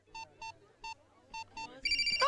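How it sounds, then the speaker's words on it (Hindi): A mobile phone ringtone plays as a repeating electronic chirp, five short even beeps in a steady rhythm, then a louder brighter melodic ring bursts in at the end, close and clear with no talking. "मर गया मेरी बीवी का फोन।"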